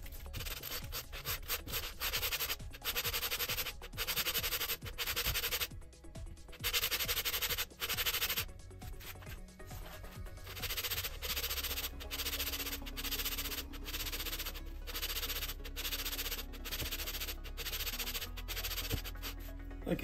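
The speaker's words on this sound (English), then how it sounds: "We could definitely smooth this up a little bit with the sandpaper" PVC pipe rubbed by hand with sandpaper for a Boba Fett jet pack build, close scratchy strokes in long repeated bursts with brief pauses between passes.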